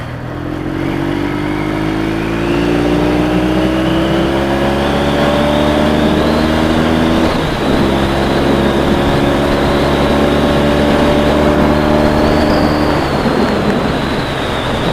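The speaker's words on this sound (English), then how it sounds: "We can hear his bloody airbox noise through this thing when you're pulling away." Yamaha XS650 motorcycle pulling away, its airbox intake roaring loud and steady with a rising, revving engine drone that climbs through the gears and holds close for the whole stretch.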